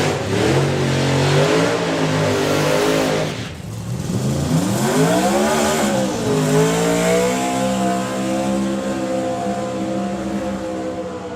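Drag racing doorslammer cars with blower and turbo engines roar loudly and continuously at close range, engine pitch climbing in sweeping revs, dipping briefly midway before surging again, with no talk over it.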